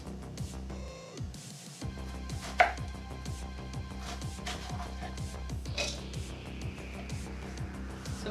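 Half an onion chopped on a cutting board with a knife, a steady run of quick, rhythmic close-up knife strikes that continues throughout.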